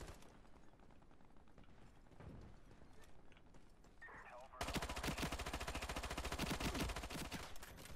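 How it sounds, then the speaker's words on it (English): A P90 submachine gun fires in the video game Ironsight, opening with quieter game sounds and then breaking into a dense, loud burst of rapid automatic fire that lasts several seconds. "That was the P90, people."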